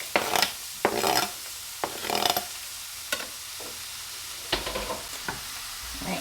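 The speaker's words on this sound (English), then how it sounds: "we are just going to saute this for about 3 to 4 minutes until it is fragrant" Onions and garlic sautéing in olive oil in a skillet over medium heat, a soft sizzle broken by repeated scraping strokes of a utensil stirring, close and fairly quiet.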